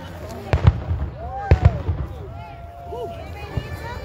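Fireworks burst at a New Year celebration ball drop at an agriculture gala, several sharp booms and crackles followed by whistling streaks, with people talking and cheering nearby.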